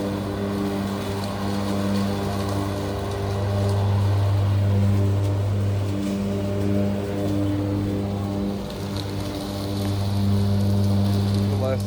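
A ride-on lawn mower cuts wet grass during heavy rain, its engine droning steadily with a strong low hum that swells and eases slightly, set against a constant hiss of rainfall.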